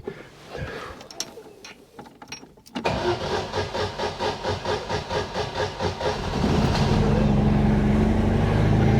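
A car engine cranks with a steady rhythmic churn for several seconds, then catches and settles into a loud, close, continuous run.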